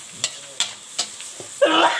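A spatula clacks against a hot pan three times during high-heat stir-frying, then a loud hiss of sizzling erupts and carries on, close by.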